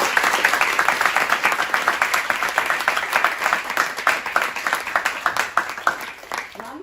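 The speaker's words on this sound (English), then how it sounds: "it deserves a great round of applause" Audience applause at a Hansraj College event, a dense burst of rapid clapping from a smallish crowd that holds steady and starts to fade near the end.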